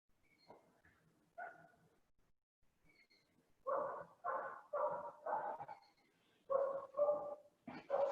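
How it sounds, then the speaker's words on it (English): A dog outdoors barks in a series of sharp, evenly spaced woofs, faint and somewhat distant, following a few quieter yips, with no one talking. "I hear a doggy outside."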